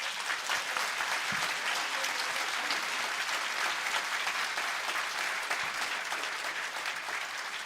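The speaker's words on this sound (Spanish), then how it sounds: "Más fuerte ese aplauso, hermanos, para la gloria de nuestro Dios." A church audience at a theological debate gives sustained, even applause, a dense wash of clapping that holds steady for several seconds without pause.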